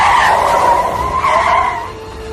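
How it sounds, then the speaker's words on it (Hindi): A car's brakes are slammed and its tires screech in one loud, sustained skid that fades as the vehicle stops, heard alone as a dramatic sound effect. "अचानक से बहुत तेज गाड़ी की ब्रेक लगाई।"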